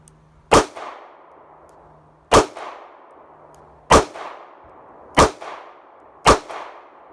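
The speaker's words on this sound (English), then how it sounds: "All right, and here goes my LCR. Again, this one's double action only." Ruger LCR double-action-only revolver fired at an outdoor range: five loud, sharp single shots at uneven intervals, each followed by a short ringing tail.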